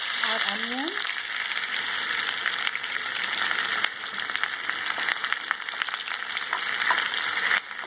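Onions sauteing in a little oil in a pan for a Punjabi-style dish, a steady loud sizzle with occasional stirring scrapes running throughout, no talking.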